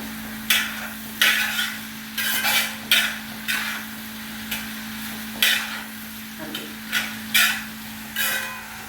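Onions for beef fry are stirred in a pan with a spoon scraping the metal in repeated strokes, about a dozen sharp scrapes over a soft sizzle and a steady background hum.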